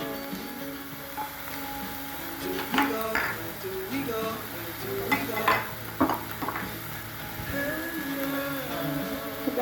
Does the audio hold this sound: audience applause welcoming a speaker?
no